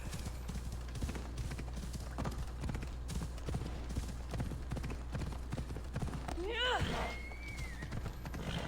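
Horse hooves clip-clop in a steady, close rhythm while riding in Assassin's Creed Odyssey. Someone talks over them throughout, and a short whinny-like cry rises near the end.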